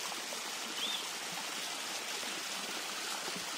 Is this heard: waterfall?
yes